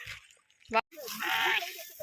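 A short, wavering bleat from a lamb close by, amid brief rustling and a second drawn-out animal cry.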